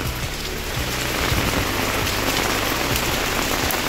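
Heavy rain pours steadily at Bakreshwar temple, a dense, loud hiss of drops on surfaces that continues unbroken, with faint low rumbles underneath.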